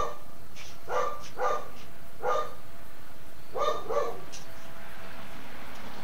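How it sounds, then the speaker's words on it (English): A dog barks in distant pairs, five or so muffled woofs spaced out over a steady background hiss. "Try to forgive my obnoxiously loud dog."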